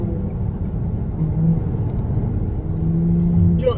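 A smooth V6 car engine from 2019 or later, pulling with a loud, steady close rumble that builds slightly toward the end, with no voices.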